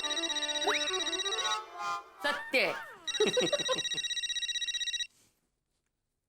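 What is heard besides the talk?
phone ringing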